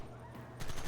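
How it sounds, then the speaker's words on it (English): Rapid video-game gunfire aimed at the front of a car, a dense burst of loud cracks crowding the last part of the second after a brief lull. "I'm shooting the front of the car."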